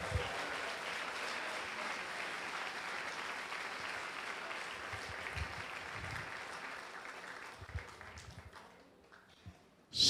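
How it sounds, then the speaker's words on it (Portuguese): Sustained applause from a church congregation during a sermon, a broad, steady roar of many clapping hands lasting several seconds before thinning out near the end. "Aplauda ao Senhor com alegria"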